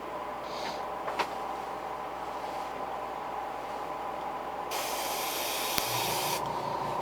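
Purple paint airbrushed as another coat onto a custom fishing lure, heat set in place, comes through as a steady spray hiss that grows louder toward the end before cutting off.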